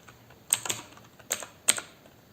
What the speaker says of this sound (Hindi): तो मैं यहाँ पे टाइप कर लेता हूँ।